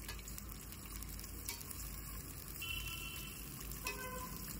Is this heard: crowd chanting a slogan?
no